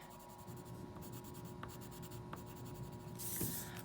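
A colored pencil scratching back and forth across paper, a faint, close, continuous rubbing that swells into a brighter scrape near the end.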